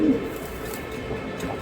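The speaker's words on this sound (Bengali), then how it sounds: "এক জোড়া রানিং মিলি কবুতর," Racing pigeons cooing in a pigeon loft, a low, throaty coo rolling steadily close by with a little background noise.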